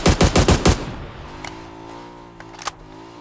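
PUBG gunfire: a quick burst of about five loud, close shots in rapid rhythm, then a ringing decay with two fainter shots later, and no talking.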